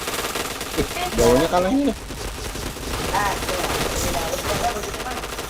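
Automatic gunfire from a shooter video game, steady bursts running under loud excited talking.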